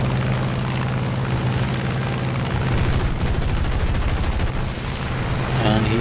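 F4U-1a Corsair machine guns in War Thunder, a rapid rattling burst of fire over droning aircraft engine noise, with a voice talking underneath.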